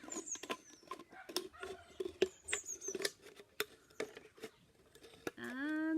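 Scissors cutting through a plastic pop bottle give a run of sharp, irregular snips and crinkling crackles close to the microphone, ending in a brief squeaky scrape.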